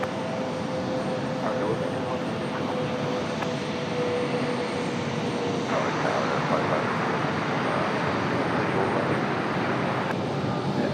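A FedEx 767 or A300 heavy jet arriving at Raleigh-Durham International Airport, its engines a continuous loud roar that persists throughout, heard outdoors with steady broadband noise.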